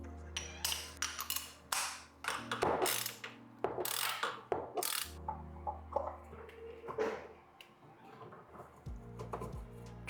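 A ratchet socket wrench with a 1/4-inch socket and 10-inch extension loosening the oil filter housing on a 20-year-old roadster, giving close bursts of rapid clicking with metallic clanks and pauses in between.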